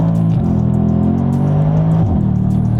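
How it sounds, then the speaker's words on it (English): A Bentley GT's exhaust gives a loud, steady droning whine with a faint high whistle, its pitch stepping down briefly about a third of the way in and again near the end. "Is that the exhaust whistling?"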